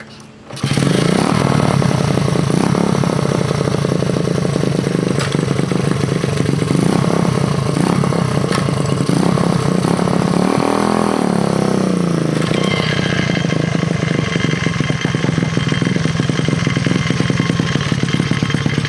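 A 1967 Honda CL90 motorcycle engine fires up on its first run after repairs and keeps running loud and close, a steady buzzing rattle with small shifts in pitch as it revs.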